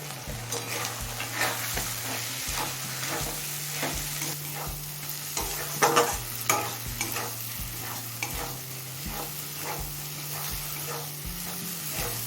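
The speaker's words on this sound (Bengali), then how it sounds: "পেঁয়াজ আর মাছের তেলটা লো মিডিয়াম ফ্লেমে 6-7 মিনিট ভেজে নিয়েছি।" Chopped onion fries in fish oil over a low-medium flame, a constant sizzle broken by regular scraping strokes of a spoon stirring the pan, heard up close with no one talking.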